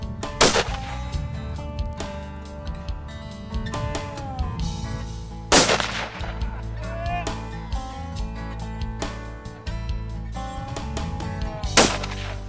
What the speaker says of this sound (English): it's always imperative to make sure the guns are still shooting correctly